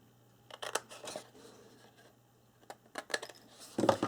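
Scissors cutting out a corner of paper or board for a handmade calendar album, a few close, crisp snips and rustles in irregular clusters against a quiet room.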